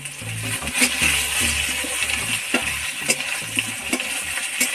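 Jackfruit curry with chili powder being stirred in a pan, a steady close scraping and sizzle with repeated spoon knocks, no voices.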